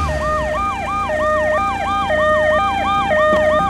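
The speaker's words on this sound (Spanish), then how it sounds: "por ahí viene la ambulancia" Ambulance siren in the video game GTA V, a loud, close wail rising and falling in rapid repeating sweeps over a steady traffic rumble, with no talking.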